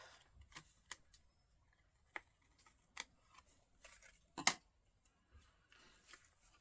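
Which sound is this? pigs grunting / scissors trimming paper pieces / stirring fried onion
scissors trimming paper pieces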